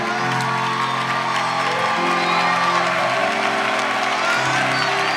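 Church congregation clapping and cheering together, a dense sustained wash of applause with whoops and shouts, fairly loud and filling the room.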